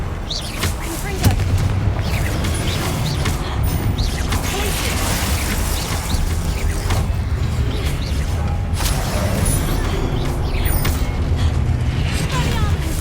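Confringo spell blasts in Hogwarts Legacy, repeated explosive booms and crashes amid continuous battle noise, loud and dense throughout.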